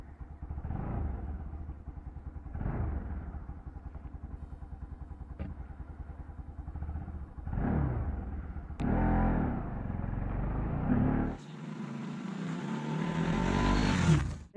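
A KTM Duke NS200 motorcycle rides along, its engine rising and falling through several rev-ups and gear changes, ending in a loud sustained acceleration with heavy wind rush.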